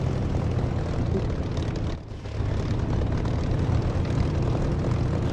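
Spitfire piston engine in the DCS flight simulator, a steady loud propeller drone running continuously, with a brief dip in level midway before resuming its even roar.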